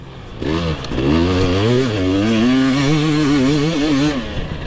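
A KTM 300 enduro motorcycle fitted with a Coober ECU accelerates hard through a meadow, its two-stroke engine climbing in pitch in a long held rev with rippling waves, loud and close, then easing off at the end.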